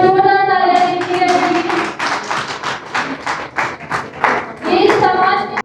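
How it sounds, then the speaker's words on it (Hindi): Audience applause at a felicitation program for Corona Warriors, a burst of dense clapping from a crowd after an opening sung or spoken phrase, loud and near, fading at the end. "एक बार जोरदार तालियां दीजिए"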